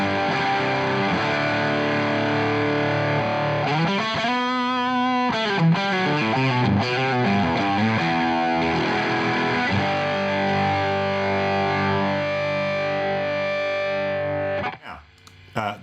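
Electric guitar through a germanium fuzz distortion from Arturia FX Collection 2, thick, buzzy sustained notes and sliding bends, loud and continuous, with a brief quieter moment at the end.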